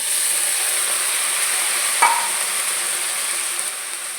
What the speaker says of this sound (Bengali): আর এদিকে উচ্ছে দিয়ে আর ভেন্ডি দিয়ে ভাজা বসিয়ে